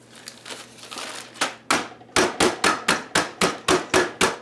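Pecans are crushed by hand for oatmeal cookies, first as soft crinkling and scattered cracks, then as a run of about nine loud, evenly spaced crunching breaks close up.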